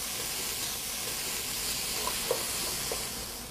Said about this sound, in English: I'm just going to start to brown it, and we're going to stay with it, and we continue to stir it and break up the beef into smaller pieces